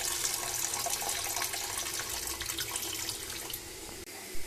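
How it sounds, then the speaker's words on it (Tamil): Water sloshes and swirls steadily as Mappillai Samba rice is rinsed by hand, a close, continuous watery rustle with no talking. "அந்த அரிசியை இந்த மாதிரி அலசி எடுத்துக்கணும்"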